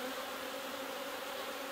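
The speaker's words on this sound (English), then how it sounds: "with all these other bees flying around" Honey bees swarm around open hives during a hive split, a dense continuous buzzing close by with no voices.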